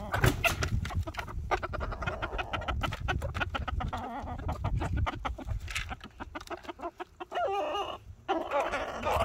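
Chickens, hens with several roosters among them, cluck and chatter nearby in a busy, uneven stream of short calls, with rustling and low background noise.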